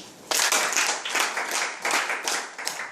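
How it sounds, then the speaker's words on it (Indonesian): An audience claps at a corporate award presentation, starting after a brief pause and continuing in uneven bursts with separate hand claps standing out, fairly close and without voices. "Jadi tepuk tangan buat Keling."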